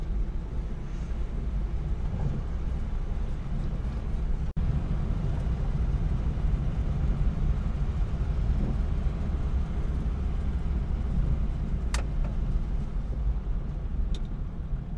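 Austin A30 car engine pulling hard under acceleration while driving, a steady, loud, low rumble of engine and road noise that runs unbroken throughout with no talking.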